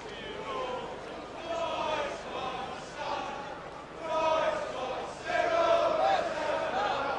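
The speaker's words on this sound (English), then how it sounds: "it's good to hear the crowd now singing that Cyril Knowles anthem" A football crowd at a Cyril Knowles tribute match with ex-Spurs players sings the Cyril Knowles anthem, a broad, distant mass of voices swelling in waves beneath a commentator's talk.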